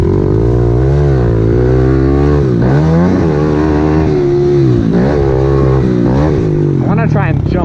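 A dirt bike nearly out of gas, running on reserve, revs close and loud with surging, uneven pitch that sags and bogs repeatedly over several seconds.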